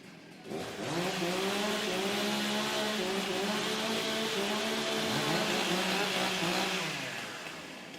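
Several stock chainsaws warm up together at a women's timbersports championship, a loud, steady, overlapping engine drone with wavering pitch that holds for several seconds and then eases slightly.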